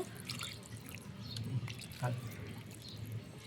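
Soft trickling water with small drips, faint and close, while a person talks over it.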